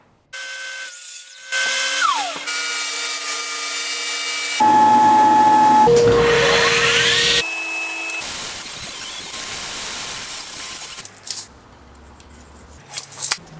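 Power saw cutting wooden trim pieces for a live edge bar, loud whining motor spin-ups and a cut that changes pitch, with shifting tones and a quieter tail at the end.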